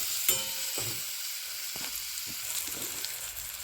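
Cherry tomatoes cooking in a pan with salt and a little hot water, giving a steady sizzle and bubbling hiss broken by a few louder stirring scrapes and pops.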